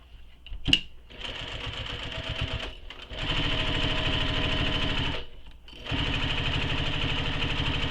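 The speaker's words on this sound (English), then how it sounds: "Now I'm going to sew across the bottom edge." A sewing machine runs close by, stitching across the bottom edge of a fabric piece in three sustained bursts with a rapid, even needle rhythm, broken by brief stops and a sharp click near the start.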